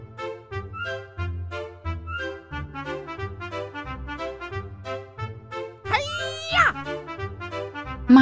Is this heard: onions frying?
no